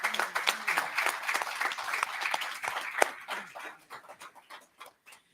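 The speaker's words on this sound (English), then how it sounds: "Can we applaud all the veterans in the room?" Applause from an audience at a roundtable event honouring veterans: a burst of many hands clapping, loud and dense, then thinning into scattered claps before fading out.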